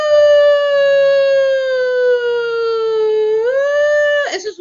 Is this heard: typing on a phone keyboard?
no